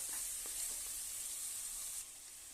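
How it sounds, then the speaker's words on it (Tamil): Mutton pieces frying in masala for a South Indian mutton kuzhambu give a steady, fairly quiet sizzle that runs throughout without pause, easing slightly softer near the end, with no talking. "பாருங்க மட்டன் நல்லா மசாலாவில் குக் ஆகிட்டு இருக்குது."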